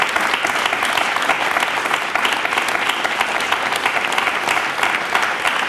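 Studio audience on a Serbian TV talk show breaks into sustained applause, dense and even clapping from a full room, loud and continuous with no voices above it.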